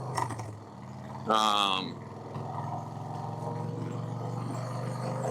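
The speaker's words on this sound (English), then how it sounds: "here that's idling high" A 1990 Harley-Davidson Fat Boy engine with an S&S Super E carburetor idles high with a steady low rumble, briefly interrupted by a loud voice speaking nearby.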